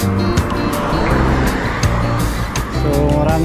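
Steady traffic crossing a bridge, taxis and buses, heard from a cyclist's position: continuous close engine and road-tire roar with several vehicles whooshing past and brief louder swells.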